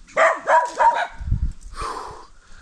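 A dog barks three times in quick, even succession close by, followed by a low thump and a trailing, softer yelp, recorded outdoors on a crawfishing outing.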